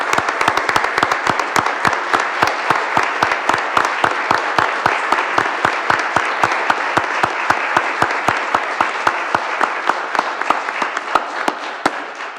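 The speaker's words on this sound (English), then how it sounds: "I'd ask for one more round of applause for all of our visitors and guests today" A round of applause in a parliamentary chamber for visitors and guests on a commemorative day: steady, dense clapping from a crowd, with sharp individual claps standing out throughout.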